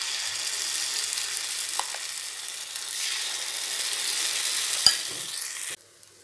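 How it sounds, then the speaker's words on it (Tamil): Leftover rice batter dropped into the wells of a hot, oiled paniyaram pan sizzles steadily and loudly close by, with a faint clink near the end before the sizzle drops away. "இப்போ ஒரு குழிலையும் கொஞ்சம் கொஞ்சமாக நம்ம வந்து மாவு சேர்த்துக்கலாம்"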